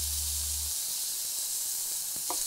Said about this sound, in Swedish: Och svampen fräsa.